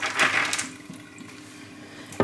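Soaked beans and their water poured into a sieve while making tofu, a short splashing gush that tapers to a faint trickle and drip, close by.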